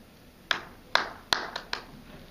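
A small group claps a short pattern of five sharp claps in an uneven rhythm, moderately close in a room.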